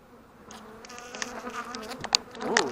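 A swarm of honeybees buzzes during a swarm removal, with several bees droning close by in overlapping, wavering tones that grow denser and louder toward the end.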